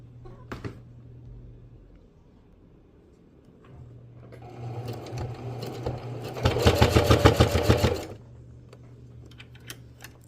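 A sewing machine stitching through several layers of fabric runs in bursts, slow at first then a fast, loud rattling stretch of stitching, with quiet gaps and a low hum between.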